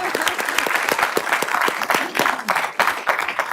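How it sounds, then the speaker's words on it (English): Steady audience applause at a school board meeting, dense clapping from a room of people throughout, fairly close and loud. "I want everyone to give that a round of applause real quick."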